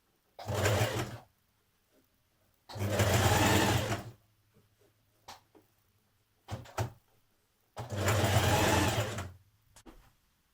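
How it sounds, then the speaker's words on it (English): A sewing machine runs a small rolled hem through both layers of a Simplicity 1195 high-low occasion dress, whirring in three loud bursts of one to two seconds, separated by near silence and faint handling clicks. "you're going to hem your dress, both layers, with a small rolled hem"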